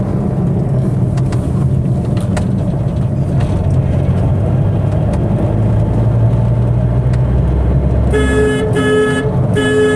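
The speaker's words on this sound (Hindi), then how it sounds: "मैं थोड़ा फास्टली ड्राइव कर रहा हूँ अभी यहाँ पे।" A car is driven fast along a narrow road, its engine and road noise a loud steady roar throughout, with a few short horn toots near the end.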